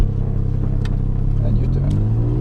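1992 Suzuki Cappuccino accelerating in first gear on a mountain road, a loud steady engine drone rising in pitch from inside the cabin, with people talking under it.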